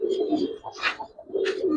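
A senior male pigeon of an old breed, kept among silver pigeons, gives low, rolling coos in two close bursts, with soft rustling and a faint chirp between them.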